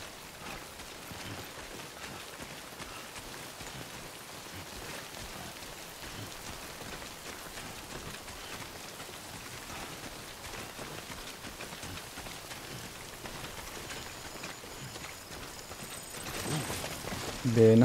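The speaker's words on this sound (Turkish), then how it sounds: "Yağmur asit." Acid rain hisses down steadily in the Death Stranding video game, an even patter of drops throughout, with a brief louder burst at the end.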